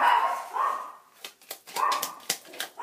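A dog barks several times in quick, uneven bursts, fairly close, with a few short yips between the louder barks.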